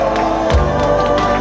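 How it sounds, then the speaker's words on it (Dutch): Audience at a CD presentation event applauds and cheers in a steady, dense wash of crowd noise with a few whoops, music or tones humming underneath. "Geef een applaus."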